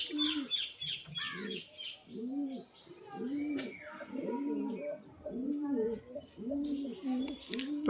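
A pair of pigeons cooing in a steady rhythmic series of soft, throaty bubbling calls close to the listener, accompanied by light chirps from other birds and someone talking quietly.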